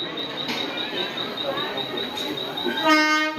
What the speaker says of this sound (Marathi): फायनली लोणावळा लोकल आलेली आहे